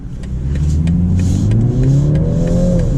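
A 2021 BMW 330i xDrive accelerates on a highway, its engine note rising steadily under strong road and wind roar heard from inside the cabin.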